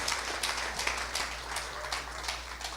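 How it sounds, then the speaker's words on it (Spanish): A church congregation claps together in a rhythmic series of hand claps, moderately near and sustained, with a low background hum beneath. "¿Por qué no damos un aplauso a Dios por esa gente que murió por la iglesia del Señor?"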